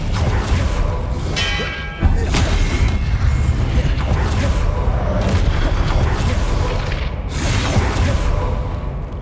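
Fire spell blasts from a Hogwarts Legacy battle against goblins, a string of heavy booms and crackling bursts over a dense, noisy combat din, loud and close, with no talking.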